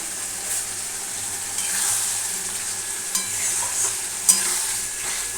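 Spice paste for a fish curry sautéing in hot oil, a soft steady sizzle broken by a few sharp spatula scrapes and clicks as it is stirred, close and with no voices.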